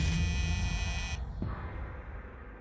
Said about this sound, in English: started hearing the buzzer to the front door go off.